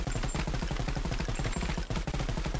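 Rapid, fast-rate automatic fire from a BO3 Dingo mod gun in the VR game Bonelab, a continuous tight rattle of shots that sounds almost suppressed, with one brief pause.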